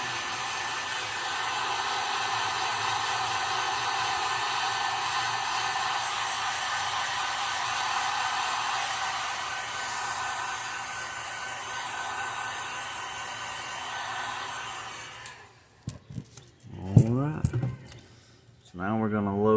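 A heat gun blasts a steady, loud rush of hot air for about fifteen seconds while setting white paint on a fishing lure, then cuts off, followed by brief clatter and a voice speaking.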